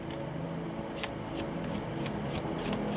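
Tarot cards being shuffled by hand during a reading, a steady soft riffling and rubbing texture that continues throughout, close and fairly quiet, with no talk.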